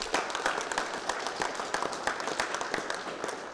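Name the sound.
applause for the Canadian cricket team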